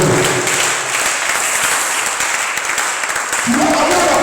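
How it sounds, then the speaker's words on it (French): A church congregation at a Sunday service bursts into loud, sustained applause acclaiming Jesus, dense clapping filling the space throughout, with voices rising near the end. "Est-ce qu'on peut acclamer le nom de Jésus?"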